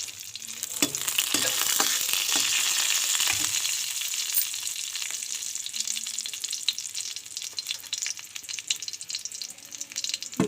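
Three dried red chillies fry in hot oil in a kadhai, a bright continuous sizzle close up with scattered small pops and crackles throughout.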